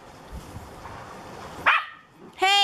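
Pet dogs, an AussieDoodle, a Labradoodle and Poodles, bark indoors at home: two sharp, loud barks close by, one before and one after a brief quiet gap.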